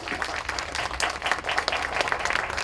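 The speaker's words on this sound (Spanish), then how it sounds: "Lo recibimos con fuertes aplausos." A conference audience gives a short, dense burst of applause to welcome a speaker to the podium. The clapping is moderately soft and steady throughout.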